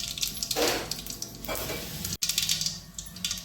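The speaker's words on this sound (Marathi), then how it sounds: "तेल तापलं की यामध्ये फोडणीसाठी मोहरी घालायची आहे थोडीशी" Mustard seeds dropped into hot oil in a kadhai for tempering, a short burst of sizzle and crackle with a couple of louder surges and a faint clink of utensils.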